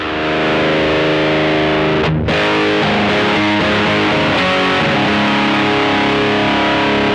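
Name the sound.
guitar through high gain distortion pedal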